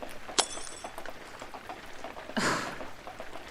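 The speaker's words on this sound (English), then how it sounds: "Second glass broken." A drinking glass shatters with a sharp crash and brief tinkling of fragments, preceded by a short clink, in a quiet indoor setting.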